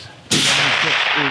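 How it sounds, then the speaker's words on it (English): A .308 Win rifle fires Hornady Black 168 grain A-MAX ammunition outdoors, giving one sudden loud crack that bursts out after a quiet moment and holds as a sustained broadband roar to the end. "All right, let's get shooting."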